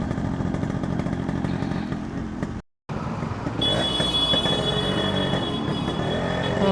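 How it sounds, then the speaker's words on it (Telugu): A Yamaha RX100 two-stroke motorcycle engine revs with a loud, continuous buzzing drone that cuts out for an instant, then returns with a higher, harder-edged tone, close to the microphone and with no voices. "ఎలా రెవ్ చేస్తూ ఉండాలి, లేకపోతే ఆగిపోతుంది బైక్"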